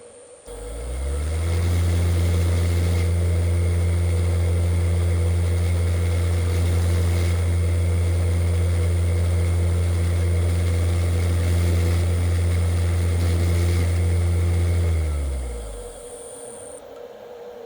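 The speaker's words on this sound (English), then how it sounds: "Then we are going to hit M3, and that is the command that will actually start the spindle." A DIY CNC spindle driven by a VFD starts with a rising tonal whine, runs at a steady loud pitch for about fourteen seconds, then winds down.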